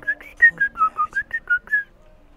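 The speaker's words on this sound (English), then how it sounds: "she whistles a lot better than I do" A girl character in Enderal, a Skyrim total conversion mod video game, whistles a clear melody of about nine short, even notes in steady rhythm, alone and close.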